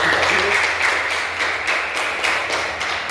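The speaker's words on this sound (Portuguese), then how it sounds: "Dê uma salva de palmas." A crowd claps steadily, a dense wash of applause with faint rhythmic accents, continuous throughout.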